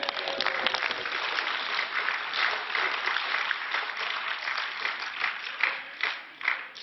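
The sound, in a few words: European Parliament members cheering and applauding after Farage's speech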